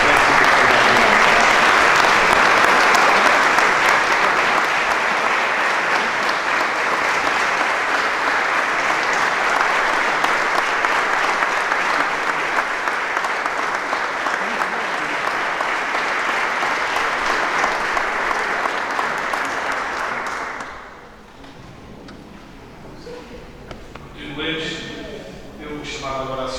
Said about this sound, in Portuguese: dar-nos uma salva de palmas ao Eliseu pelo trabalho excelente que ele fez